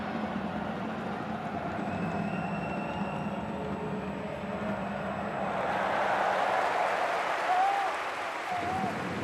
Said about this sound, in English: Hearing his name being chanted by the crowd inside this arena.